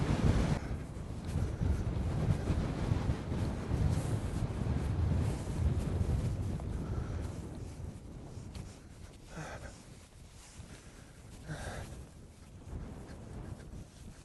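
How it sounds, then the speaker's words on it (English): Strong wind buffets the microphone in a constant roar on Melbreak North Top, a dry fell summit in the Lake District, heavier at first and easing somewhat later, with no one speaking. "Quite windy up here."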